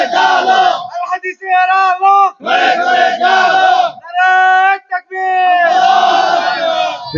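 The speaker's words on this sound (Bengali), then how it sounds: "দুহাত উঁচু করে স্লোগান দিয়ে দেখান।" A large crowd at a religious gathering shouts slogans in unison, loud rhythmic call-and-response chants with short breaks between each line, close and energetic.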